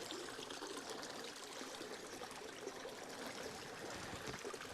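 A small babbling brook trickles and burbles over stones outdoors, a steady, even wash of running water close by with no voices.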